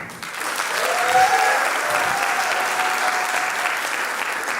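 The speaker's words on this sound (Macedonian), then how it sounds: "Аплауз да видам скопјани само." An audience at a stand-up comedy show in Skopje, Macedonia, bursts into steady, full applause that holds evenly for several seconds, dense and close, with no talking over it.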